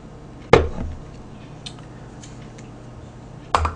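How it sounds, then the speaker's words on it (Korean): Kitchen scissors snip through cold yeolmu mul-naengmyeon noodles, giving two sharp close cuts a few seconds apart with faint light clicks between them in a quiet room. "일단 제가 먼저 가위질을 한번 하고요."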